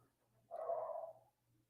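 A single short, muffled dog bark from indoors, faint and somewhat distant over a low background hum.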